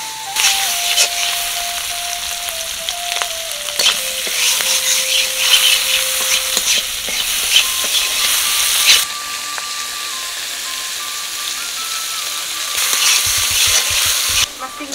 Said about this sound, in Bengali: লবণ হলুদ দিয়ে চিংড়ি মাছ ভেজে নেব।